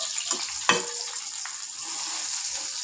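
Eggplant fries on a low flame with a steady, close hiss of sizzling oil, broken by a couple of soft clicks or taps.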